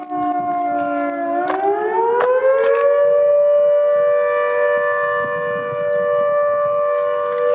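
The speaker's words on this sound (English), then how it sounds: "There's an air raid siren." A loud, sustained air raid siren wails steadily, heard from inside a Mazda Bongo van, its tone rising early on and then holding a long, haunting pitch with faint background noise beneath.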